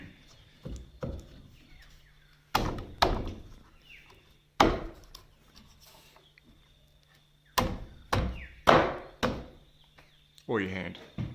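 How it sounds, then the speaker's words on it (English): A hammer taps a timber piece into place on a Byron cabin kit, sounding as a series of sharp, close wooden knocks in small bursts, with quieter handling sounds between them and a soft steady hum underneath. "tap that in with a hammer"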